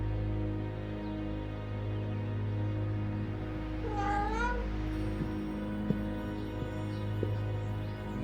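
A cat gives a single clear meow midway through a quiet, humming scene in the Alfred Hitchcock Vertigo video game.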